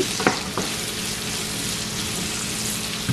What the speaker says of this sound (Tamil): இப்போ இதில் போடுங்க. இதனால லைட்லி கோல்டன் ப்ரௌன் வரை வதக்கி எடுப்போம்.